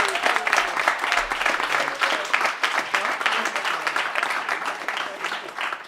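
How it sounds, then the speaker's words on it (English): An audience at an urban male panel event in Boston applauds the panelists, sustained crisp clapping from many hands, close and steady, with a few voices mixed in. "Can we give our panelists another round of applause?"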